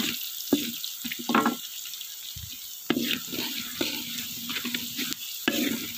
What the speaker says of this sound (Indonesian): lalu kita tumis sampai harum